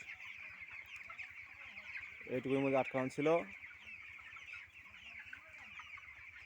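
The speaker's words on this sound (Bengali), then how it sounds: "আজ আমার মুরগি আঠারো দিন বয়স" Eighteen-day-old chickens, over 1,500 birds, cluck and cheep steadily in a poultry shed, a dense chorus running throughout while someone speaks briefly in the middle.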